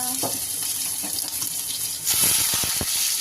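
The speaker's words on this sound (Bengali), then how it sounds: "আমার তেল গরম হয়ে গেছে, এর মধ্যে এখন ঢেলে দিব 5 ফোড়ন, তেজপাতা, হিং" Panch phoron, bay leaf and asafoetida drop into hot oil for a chana dal with nenua. A steady, close frying hiss bursts into a louder, crackling sizzle partway through and keeps crackling after that.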